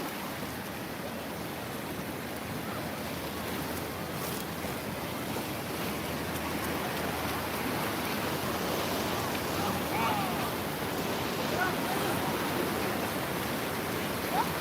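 Ocean surf washes steadily at a San Diego beach, a broad continuous roar mixed with wind buffeting the microphone, fairly loud and unbroken.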